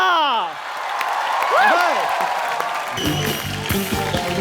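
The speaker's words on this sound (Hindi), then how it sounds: "एक बार गोविंदा सर के लिए जोरदार तालियां।" A studio audience on The Kapil Sharma Show applauds to welcome Govinda, steady clapping and cheers mixed under bright swooping musical tones and a rhythmic backing beat.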